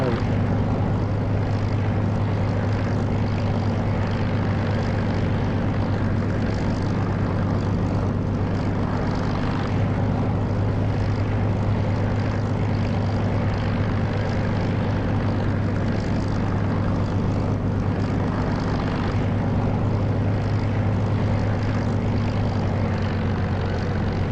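Steady, loud drone of an aircraft engine in the DCS flight simulator game, a continuous propeller-plane hum that holds evenly throughout with no talk over it.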